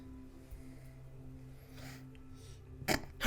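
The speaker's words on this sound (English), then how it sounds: "I had a sneeze." One sudden, sharp sneeze bursts out at the end of a quiet stretch of room tone during a casual podcast conversation, close and fairly loud.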